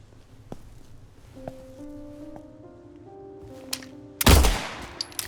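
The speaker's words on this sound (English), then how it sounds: "Maybe we just live with the very loud gun noises" A sudden loud burst of gunfire in the Silent Hill 2 remake video game, one sharp, harsh blast near the end after a quiet stretch of faint ambient tones.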